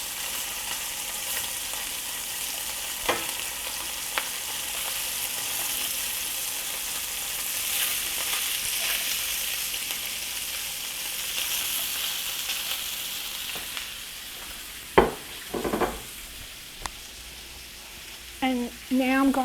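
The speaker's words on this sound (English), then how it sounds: "I'm going to add back in my potatoes" Potatoes and smoked sausage fry in a single pot, giving a steady bright sizzle throughout, with a few brief utensil scrapes and clinks near the end and no talking.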